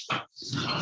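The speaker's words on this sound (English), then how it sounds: "dog wanted to play" A dog playing with a toy indoors makes close, rough grunting and snuffling noises in two bursts split by a short pause, with no talking.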